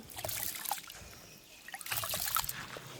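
Rice is swished and rinsed by hand in water for a Deepavali sweet, with soft sloshing and trickling in two quiet bursts separated by a brief pause.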